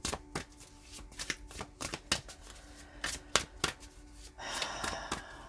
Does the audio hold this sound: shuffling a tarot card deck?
yes